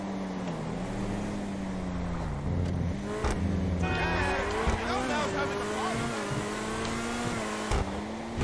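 A black Vysser Neo sports car in GTA Online accelerating hard, its engine note climbing and shifting with rising tonal revs and some tire squeal, heard under steady talk.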